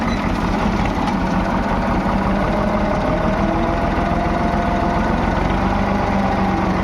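A tractor engine idles steadily throughout, a low rumbling drone with constant vibration and no pauses.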